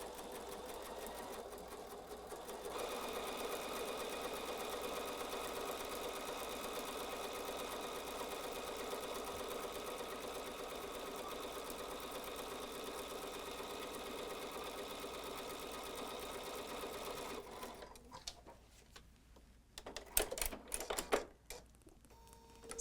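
Sewing machine running steadily to stitch a straight seam against a seam guide, a continuous mechanical whirr for most of the time, then stopping into a few clicks and handling noises.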